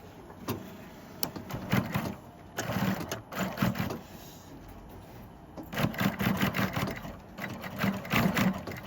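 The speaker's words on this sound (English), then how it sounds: "we'll do another line of stitching that is a 1/4 inch away from that line of stitching" A sewing machine stitches a line along a lined hybrid structural loop cummerbund, running in several close, whirring bursts separated by short pauses.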